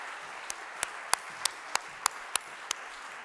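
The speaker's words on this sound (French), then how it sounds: "On va l'applaudir" Sparse, evenly spaced claps, about eight sharp distinct strikes at a slow steady pace, ring out in a lecture hall for a Fields Medal laureate, fairly faint against a quiet room.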